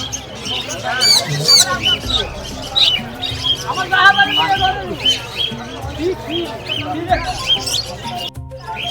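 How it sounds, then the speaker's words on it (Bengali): Lots of market birds kept for sale chirp, squawk and tweet in a constant overlapping chorus, mixed with people talking nearby in a busy market. "সব পাখি কত সুন্দর কিচির মিচির শব্দ করতেছে।"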